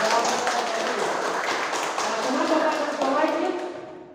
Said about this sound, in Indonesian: Bagus sekali, tepuk tangan buat tim.